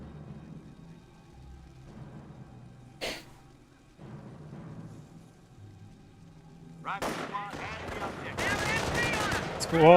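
In the Company of Heroes strategy game, an MG42 machine gun and other weapons fire. Faint reports early on build into loud, dense bursts of gunfire near the end, with someone talking over the action.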